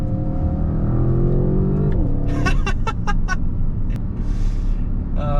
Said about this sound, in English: when you downshift, it pops and burbles.